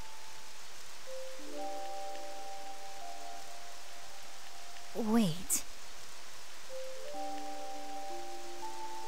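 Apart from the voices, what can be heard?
rain in video game Octopath Traveler II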